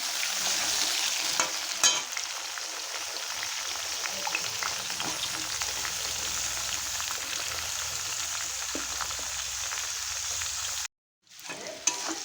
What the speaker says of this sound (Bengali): আলু গাজর ভালো করে ভাজা হয়ে গেছে